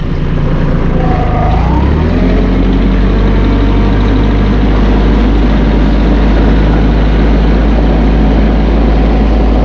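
The small diesel engine of a Massey Ferguson 1M.25 hydrostatic compact tractor idles and runs steadily up close on gravel, a low constant rumble with a brief rise in pitch near the start.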